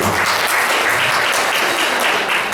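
A church congregation applauds at a morning service, a dense, steady wash of many hands clapping throughout with no break.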